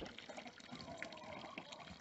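Water runs from an outdoor homestead tap in a faint, steady trickling splash, quiet and continuous with no talking.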